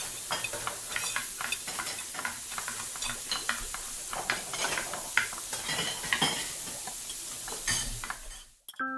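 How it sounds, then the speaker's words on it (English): In a kitchen, a utensil scrapes and stirs through food in a pan while oil sizzles steadily underneath, with occasional clinks of cookware, close and continuous. "Now that we've heard some cocina or kitchen sounds"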